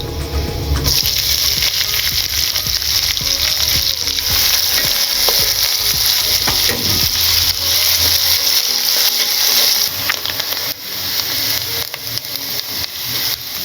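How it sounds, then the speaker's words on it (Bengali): Chopped onion sizzles and crackles loudly in hot oil with cinnamon while being stirred for a chickpea curry, a dense, continuous frying hiss with scraping stir sounds throughout, no voices. "পেঁয়াজগুলো আমরা তেলের সাথে হালকা ভেজে নিয়েছি"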